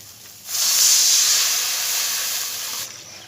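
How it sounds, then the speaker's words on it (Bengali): Water poured into frying spice masala for a taro curry sets off a sudden loud steam hiss that holds for over two seconds, then drops away abruptly. "মশলাটাকে ভালো করে কষে নিয়েছি এবারে জল দিয়ে দেব"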